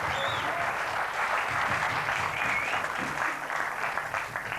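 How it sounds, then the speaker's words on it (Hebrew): Studio audience applauding on a 1997 Israeli TV quiz show, a dense, steady round of clapping lasting several seconds without talk. "מחיאות כפיים."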